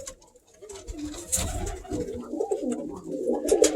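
Pigeons or doves kept for breeding coo and flutter nearby, soft repeated cooing calls mixed with scattered rustles and sharper bird noises, fairly close and with no talking.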